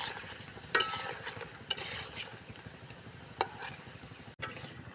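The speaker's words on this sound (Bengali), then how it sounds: "এদিকে দেখুন, আমার বান্ধবী ভাজাভাজি শুরু করে দিয়েছে।" Round sweets made from puffed rice, with milk powder added, fry in oil with a soft continuous sizzle and a few short crackling bursts, close and without speech.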